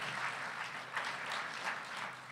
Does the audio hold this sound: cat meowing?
no